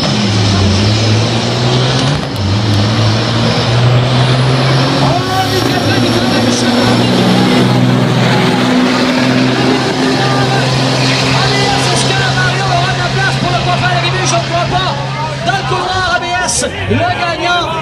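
A 30-tonne fully loaded truck roars at full throttle in a heavy-truck drag race at Baie-Du-Febvre, a loud, continuous engine drone throughout, with crowd noise and an announcer talking over it.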